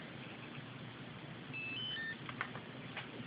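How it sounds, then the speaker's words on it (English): An electronic speed controller gives three short high beeps in quick succession on recognizing the low throttle position, rising above a steady low electronic hum, faint and close. "you should have heard 3 tones there, which signals that it has now recognized the low throttle position"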